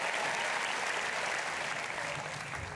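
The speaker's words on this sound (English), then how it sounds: "Give yourself a round of applause." An audience at a funk music hall of fame event applauds themselves, a continuous wash of crowd clapping that stays even and full throughout, fading slightly at the end.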